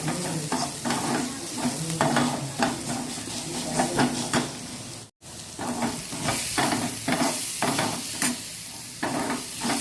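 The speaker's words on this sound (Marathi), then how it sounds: "व्यवस्थित परतून झालं आपलं तेल कमी असल्यामुळे थोडंसं ते लागून गेलं" Onion sautéing in a little oil in a pan for eggplant bharit, slightly catching on the bottom, sizzles steadily while a utensil scrapes and stirs in repeated strokes, close and continuous with a brief pause midway.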